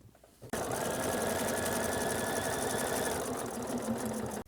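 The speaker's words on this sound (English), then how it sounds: "Then we're going to do 2 rows of stitching right along this edge." A sewing machine stitching rows along the edge of a fabric drawstring bag made from squares, a steady close whirring hum that runs continuously for several seconds after a short quiet start.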